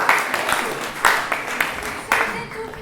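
Audience applause in a studio quiz show, steady clapping from a crowd lasting a few seconds with irregular louder bursts.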